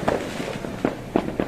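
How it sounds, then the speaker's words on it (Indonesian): Fireworks burst over Yogyakarta during a celebration, a few dull distant thumps and crackles spaced irregularly over a steady background murmur. "di langit Yogyakarta masih bertebaran kembang api yang notabene-nya harganya masih mahal"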